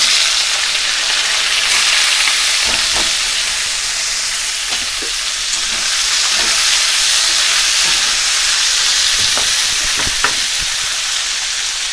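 Chopped green beans (yardlong beans), potato and carrot hit a hot pan and sizzle loudly. The frying hiss is steady and close throughout, with occasional soft knocks and stirring sounds and no talking.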